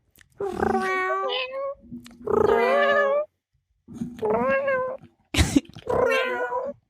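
A person imitates a cat with four drawn-out, wavering meows, loud and close, separated by short pauses.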